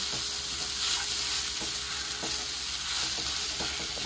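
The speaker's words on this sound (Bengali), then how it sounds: "আলুটাকে ভালো করে কিন্তু বিট গাজরের সাথে এবার মিশিয়ে নেব।" Mashed boiled potato being stirred into beetroot and carrot in a hot pan for Bengali vegetable chop filling, steady sizzle with repeated soft scraping strokes, close and clear, no talking.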